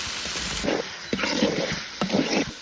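Chicken meat goes into a pan of frying spices, producing a steady loud sizzle that swells in repeated bursts as the pieces hit the hot pan.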